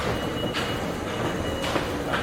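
Hamburg metro train running: a steady rumbling roar with rail clatter and a couple of brief high squeals from the wheels, heard alone without talk.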